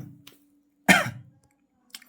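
A single sharp cough bursts out close and loud, with a brief tail, set against a quiet room hum and a few faint clicks.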